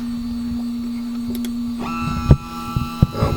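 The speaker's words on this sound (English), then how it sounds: "let's initialize the machine and do the homing cycle" A Carbide 3D CNC machine fitted with an HDZ Z-axis runs its homing cycle, giving a steady motor whine with a few sharp mechanical clicks and knocks near the end.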